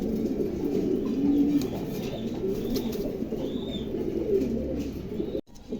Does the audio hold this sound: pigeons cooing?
yes